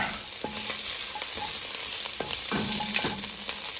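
Onions and ginger frying in a pan, a steady loud sizzle broken by scraping and clinking of a utensil stirring several times, close up and without talk.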